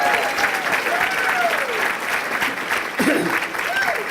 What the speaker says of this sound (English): Let's give a clap for Lorraine Morgan,